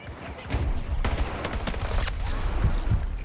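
Bursts of gunfire in Battlefield 6 multiplayer crackle at moderate loudness, with scattered sharp shots over a busy combat background and some talk mixed in.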